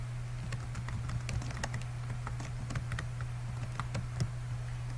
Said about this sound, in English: So let's type in your mission name.